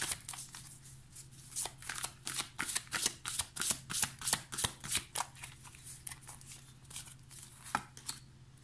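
Angel tarot cards being shuffled by hand in a run of quick, crisp riffling bursts, close and fairly quiet, with no talking.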